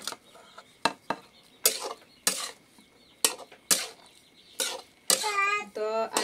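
Cooked rice with egg and leftover tadka being stir-fried in a pan for anda biryani, sharp scraping and clanking strokes of a spatula against metal at irregular intervals, with a voice near the end.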